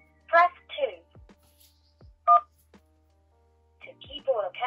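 Touch-tone keypad beeps from a phone dialing into an automated parking payment line, two short bursts of dual tones spaced apart, with a recorded voice prompt speaking before and after them.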